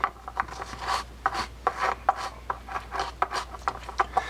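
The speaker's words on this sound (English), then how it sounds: "I'm going to go clear the tracks then on the pinion gear. I'm just looking for a brush." A small brush scrubs the pinion gear tracks of a Daiwa Bronze 7650 fishing reel on a workbench, giving quick, rhythmic bristly rasping strokes, close up, about a dozen short scrubs in a row.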